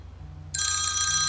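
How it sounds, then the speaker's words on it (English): A phone rings indoors, a bright electronic tone that starts suddenly and holds steady, loud and close, over a low background hum. "there's the phone"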